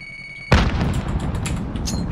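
A grenade blast from Call of Duty Warzone hits with a sudden loud boom after a brief quiet moment, then trails into a rumbling, crackling tail.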